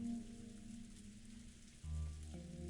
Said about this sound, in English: Or perhaps the sound of the rain was making her sentimental.